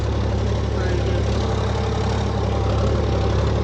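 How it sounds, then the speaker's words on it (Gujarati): A tractor engine runs at a steady, loud, close idle, a continuous low rumble that does not change. "આ બીજી ફેરી ટ્રેક્ટર હાલે છે."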